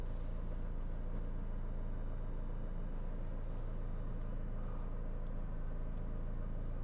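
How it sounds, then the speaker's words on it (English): A McLaren 570S sports car moves off from a stop, its engine a steady low rumble and broad road noise that hold continuously at close range from inside the cabin. "We'll put it in drive"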